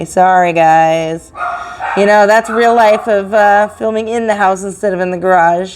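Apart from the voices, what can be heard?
dogs barking in the house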